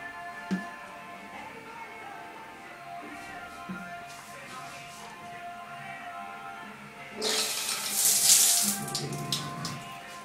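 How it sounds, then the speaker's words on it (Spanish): Water gushes from an opened tap in a dormitory, a broad hiss swelling loud for a few seconds near the end after a quieter stretch with faint background sounds. "Abre la llave, para que vean que hay agua."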